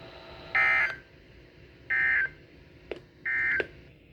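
Emergency Alert System weekly test tones: three short, loud, steady electronic bursts with even gaps between them and a couple of faint clicks, with no voice.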